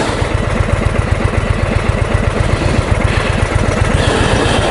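A 2021 Indian Chief Dark Horse cruiser motorcycle idles close by, its big V-twin giving a loud, steady, low pulsing throb with no talk over it.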